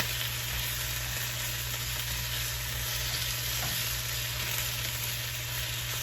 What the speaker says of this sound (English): And also cook that garlic so it's flavorful but not so sharp